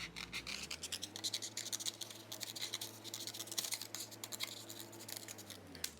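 Scissors snipping through paper to cut out the round top section for a dragon puppet's wings, a close, steady run of crisp scratchy cuts with no talking.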